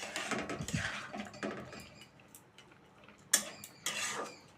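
Chicken pulao stirred in a cooking pot, giving close scraping and clattering of a utensil against the metal in short bursts, with a sharper knock near the end.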